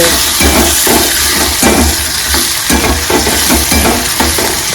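Washed peanuts sizzle loudly in hot oil for sabudana khichdi, a steady close frying hiss broken by repeated scraping stirs at a quick, regular rhythm.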